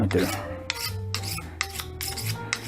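A boning knife is sharpened on a stone, giving close rhythmic rasping strokes, about six quick scrapes in a steady back-and-forth pattern with no talking.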